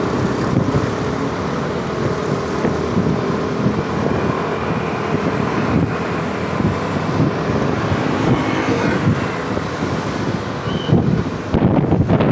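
Strong wind buffets the microphone near Pramuka BPKP station in Jakarta on a clear day, a loud, continuous rumbling roar with gusty surges and no talking.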